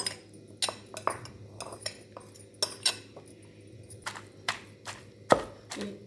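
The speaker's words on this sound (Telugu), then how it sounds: "ఇప్పుడు దీనిలో ఆకుకూర వేసేసుకుందాం" Fresh Malabar spinach leaves dropped into a hot pan for a chutney, giving a run of light clinks and soft rustling knocks spaced irregularly, close and fairly quiet with no talking.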